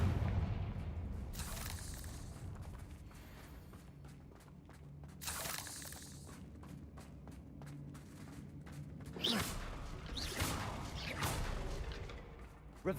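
A Confringo blasting spell explodes in a Harry Potter video game: a sharp burst early on, then scattered booms and whooshing impacts over a low mechanical rumble, with later blasts standing out against a fairly quiet background.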